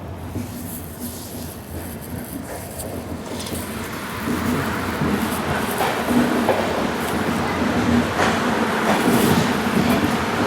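The 17630 Hazur Sahib Nanded Hadapsar Express rolls along the Daund chord line, a continuous rumble of wheels and carriage heard from on board that grows louder partway through.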